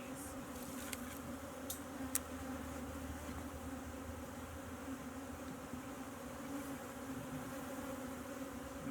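Honeybees buzz steadily at a beehive being fed sugar water, a continuous close drone with a few brief louder passes near the listener.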